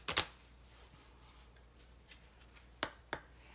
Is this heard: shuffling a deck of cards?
yes